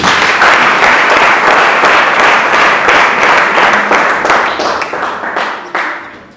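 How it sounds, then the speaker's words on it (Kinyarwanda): A church congregation breaks into loud, sustained applause during a sermon, dense clapping filling the room steadily before thinning and tapering off near the end. "Reka dukomere Imana yacu amashyi."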